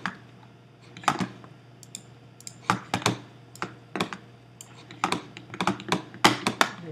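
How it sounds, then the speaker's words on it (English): Pen tablet and mouse clack against a cramped desk in irregular bursts of close, sharp clicks and taps, sounding much like keyboard typing over a faint steady hum. "Better getting a bunch of clacking because my desk space is a little small when I'm using the pad."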